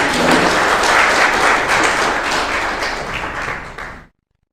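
Sustained applause from an audience at a business conference keynote, loud and steady for about four seconds before stopping abruptly.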